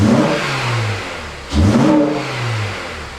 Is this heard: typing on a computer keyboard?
no